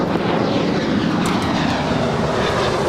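A jet airliner takes off from runway 25 right at Los Angeles International Airport (LAX), a loud, steady broadband roar that holds for the whole stretch without any voices.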